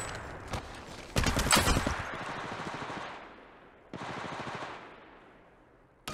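Rapid automatic gunfire in the mobile battle royale shooter Apex Legends Mobile, loud bursts of fire that stop, start again after a pause, and end with a final short burst.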